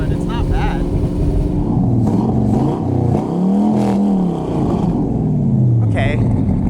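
An LS V8 engine fed by three lawn mower carburetors revs up and falls back, a loud, rough rumble with rising and sinking pitch sweeps, close by.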